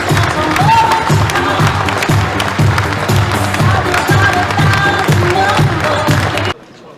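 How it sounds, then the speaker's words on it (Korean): An indoor audience applauds a departing official in loud, sustained rhythmic clapping with some cheering and crowd noise, then cuts off abruptly at the end. "다시 한번 힘찬 박수를 보내주시기 바랍니다"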